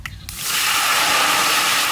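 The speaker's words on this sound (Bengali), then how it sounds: "এবার জল ঢেলে দেবো" Water poured into a hot wok of mustard oil tempered with five-spice, dried red chillies and bay leaves bursts into a loud, sustained sizzle after a brief quiet moment, close by.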